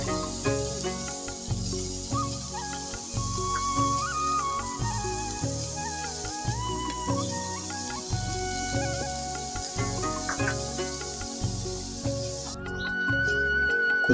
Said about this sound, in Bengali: সর্বশেষ আমরা এখন চেপা শুটকিগুলো ভেজে নিচ্ছি।